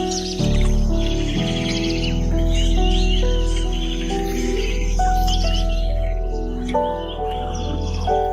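Birds call and chirp in a wetland, bright repeated notes layered over a low musical drone and sustained tones throughout.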